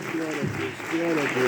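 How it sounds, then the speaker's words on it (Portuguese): A church congregation breaks into brief applause, the clapping blending with a voice heard over it. "Vamos aplaudir Jesus"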